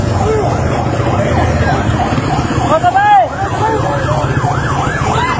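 Police vehicle siren arriving at a roadside scene, wailing up-and-down tones repeating close by over traffic noise, with a brief shout from a voice.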